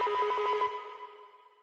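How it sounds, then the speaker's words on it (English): A classic wheel up signal effect drenched in heavy reverb: a short burst of rapid pulsing tones over a steady pitched hum, then a long bright tail ringing out and slowly fading, with no voices. "And then we got the classic wheel up signal."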